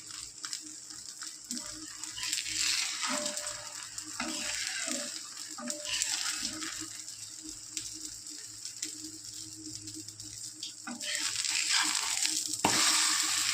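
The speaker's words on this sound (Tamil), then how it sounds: "கேரட் வந்து ரொம்ப வதங்கக்கூடாது சும்மா ஒரு வதக்கு வதக்கிட்டு" Carrots sauté in a hot pan for wheat dosa, a steady soft sizzle with scraping stirs and light clatter that swells toward the end.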